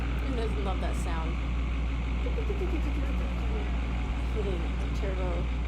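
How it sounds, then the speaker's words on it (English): A single-turbo Duramax diesel drag car at a drag strip, turbo slapping in a steady loud roar with rising and falling whistle-like tones over a heavy low rumble, with voices talking over it. "The turbo slapping."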